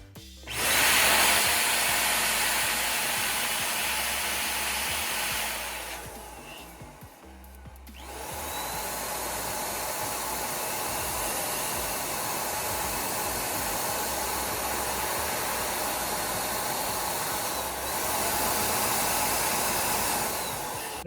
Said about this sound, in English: you can always use an air gun to dry them the insides faster